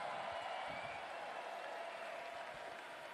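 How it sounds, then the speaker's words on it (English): A crowd at the STIHL Timbersports Individual World Championship 2022 applauds, a steady wash of clapping over about three seconds with faint crowd noise and a trace of voices underneath. "Come on, that deserves a great big applause."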